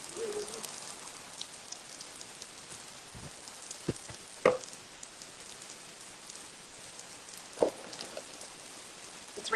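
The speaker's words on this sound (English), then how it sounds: "It's raining so hard. It was coming in the garage and getting me and the phone wet." Heavy rain falling outside an open garage, a faint steady hiss of downpour with a few sharp clicks and taps of drops landing close by.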